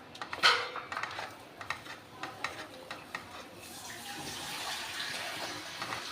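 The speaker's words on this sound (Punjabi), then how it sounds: "ਥੋੜਾ ਜਿਹਾ ਪਾਣੀ ਪਾ ਦਾਂਗੇ ਉਸੇ ਕੌਲੀ ਨਾਲ ਪਾਇਆ ਜਿਹਦੇ ਵਿੱਚ ਨੂਨ ਮਿਰਚ ਪਾਇਆ ਸੀ" Water is poured from a small bowl into simmering curry gravy for a drumstick-pod sabji in a pan, opening with a few quiet clinks and splashes, then a soft, steady pour close by with no talking.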